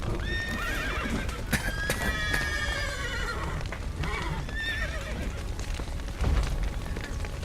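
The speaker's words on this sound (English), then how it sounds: "Horses!" Horses in The Witcher 3 whinny repeatedly over busy hoof clopping during an escape from a building with a collapsed roof. The calls are loud and close, with a low thud near the end.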